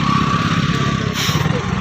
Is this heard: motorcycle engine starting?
yes